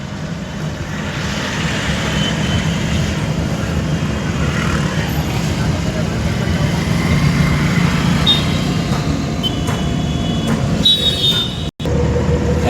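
Car driving along a highway, a steady broadband rumble of engine and road noise holding evenly close by, with a brief sharp dropout near the end.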